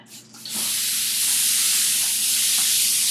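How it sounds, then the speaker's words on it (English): A Mystic spray tan booth starts spraying with a loud, steady mist hiss that kicks in after a brief moment and runs on continuously. "Spraying starts in 3, 2,"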